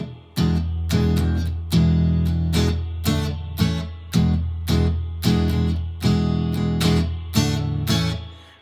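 A song plays loudly with steady rhythmic strummed attacks and a continuous low bass drone, no voices over it.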